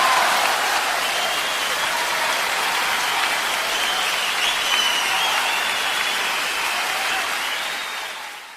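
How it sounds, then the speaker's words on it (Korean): A stock applause sound effect plays: a dense, loud crowd clapping that holds steady, then fades out at the end. "정답일 때에는 박수갈채라고 하는 소리를 추가하도록 하겠습니다."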